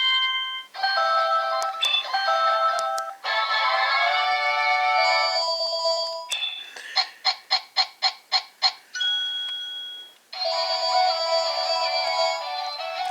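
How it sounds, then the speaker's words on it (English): A phone ringtone plays loudly and alone, cycling through bright electronic melodic phrases with a burst of rapid evenly spaced beeps midway, then returning to the tune. "Sorry about that, had to get the phone."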